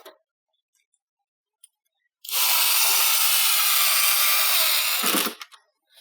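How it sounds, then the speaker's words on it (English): A power driver screws metal wire-protection stakes into dirt, one loud continuous whirring burst of about three seconds after a few faint clicks, then it winds down and stops. "So I'm gonna go ahead and screw each of these in."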